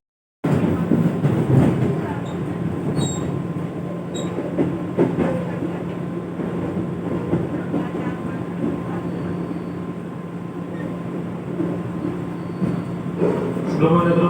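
A KRL Commuter Line electric train runs between Jakarta stations on the last service toward Bekasi Timur, giving a steady interior rumble with rail clatter and a faint hum throughout, while voices murmur in the carriage.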